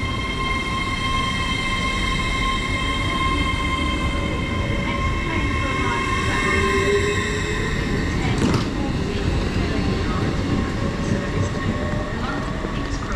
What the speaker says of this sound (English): going out now is the 11:19 to London King's Cross.